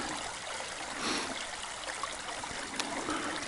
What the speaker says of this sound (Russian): Большой ручей, большой.